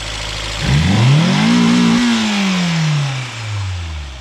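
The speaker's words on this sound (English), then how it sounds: "I just want to hit rev limiter once for the boys." A Mazda Miata's engine revs hard from idle up to the rev limiter, rising to a loud, sustained buzzing whine, holding briefly at the top, then falling back toward idle, close and alone.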